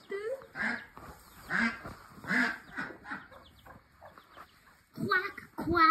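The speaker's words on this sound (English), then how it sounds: "There's the duck." A farm duck quacks in several loud, nearby bursts, with a voice talking between the calls.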